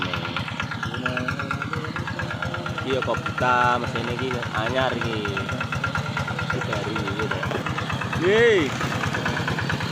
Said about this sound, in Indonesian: baru mesinnya kok brutal